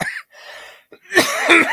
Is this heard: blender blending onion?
no